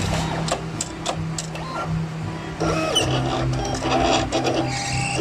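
A vinyl sticker cutting machine works nearby with a steady motor hum, quick ticking clicks and short whirring carriage moves that shift pitch midway, with no talking.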